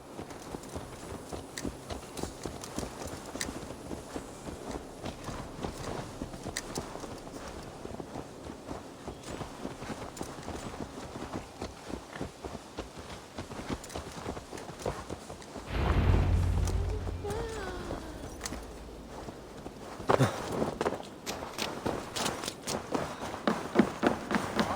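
Horse hooves clip-clop steadily in Assassin's Creed Valhalla, a walking rhythm of repeated hoofbeats with louder, fuller stretches near the end.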